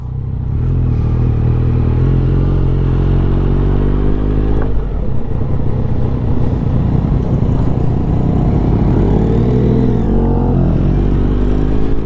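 A Yamaha Y15ZR V2 moped-style motorcycle on the road gives a loud, constant engine drone with a strong low rumble. The pitch holds steady, then shifts once midway as the rider rolls on.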